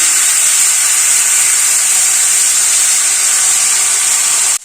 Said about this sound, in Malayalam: നല്ലപോലെ എണ്ണ അപ്ലൈ ചെയ്ത് കൊടുക്കുക. മാവ് ഒഴിച്ചു കൊടുക്കാം.